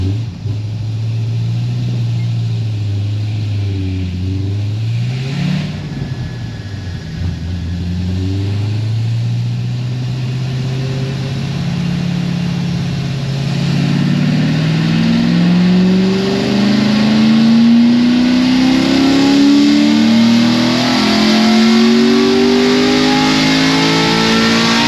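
A Chevrolet LS7 engine on a dyno climbs through a long pull, its loud, close exhaust note dipping briefly before rising steadily to a high-revving roar, with no talking over it.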